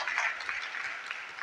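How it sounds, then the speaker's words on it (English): Audience applause at a university inaugural lecture, a soft, distant, steady patter of many hands clapping in a hall. "Can we give him an applause,"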